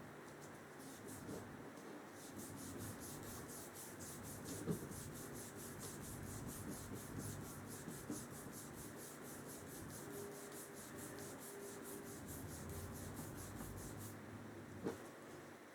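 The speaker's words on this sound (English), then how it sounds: "get out a green Scotch-Brite pad to kind of even things out a little bit before I start polishing" A green Scotch-Brite pad scrubs metal parts of a Crosman 760 airgun being restored, making a close, fast, rhythmic back-and-forth scratching that continues steadily, broken by a few faint knocks.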